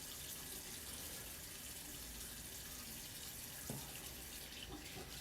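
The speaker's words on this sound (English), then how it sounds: "let's put some warm water back in the bowl here" Warm water runs steadily from a tap into a shaving bowl, a soft continuous splashing hiss that stays even throughout, quiet and close with no voices.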